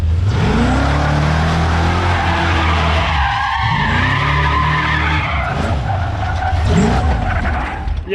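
A Ford Bronco at a burnout competition roars with a loud, sustained engine rev and screeching tire skid. The squeal persists near and continuous for the full stretch, with the engine pitch rising and falling.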